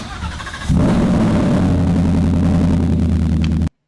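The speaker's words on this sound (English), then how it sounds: "we really just want to hear this exhaust" A truck's engine fires up through a newly fitted exhaust, jumping to a loud, deep rumbling idle right up close before cutting off abruptly.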